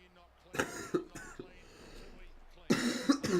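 Several close, harsh coughs in quick bursts, a pause with faint breathing, then another loud coughing fit.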